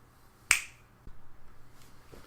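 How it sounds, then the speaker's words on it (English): A single sharp finger snap rings out clearly at close range, followed by quiet room tone and a faint low murmur afterward. "I'm going to snap my fingers"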